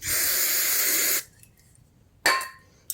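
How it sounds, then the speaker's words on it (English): Carb cleaner sprayed into the bowl of a pit bike carburetor: a steady, close, loud aerosol hiss for just over a second, then a short second spray burst near the end. "And also spray out the carburetor bowl."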